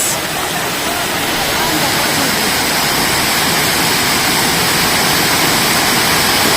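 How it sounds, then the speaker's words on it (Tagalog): Umantad Falls roaring as a steady, loud, broadband rush of falling water, continuous and close throughout with no breaks. "Umantad Falls"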